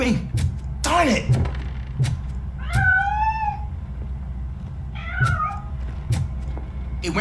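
A cat in the video game RoboCop: Rogue City meows several times, rising and falling mewls and a drawn-out wail, over a low game ambience with soft thumps.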